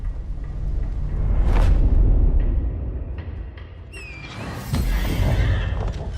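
A horse in the Elden Ring video game trailer neighs loudly once amid a low rumbling score, and a second whinny rises near the end.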